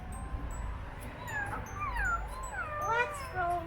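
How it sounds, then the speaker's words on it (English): Two cats meow back and forth with rising and falling wavering cries, close by, over faint background noise. "She then comes across two moaning cats."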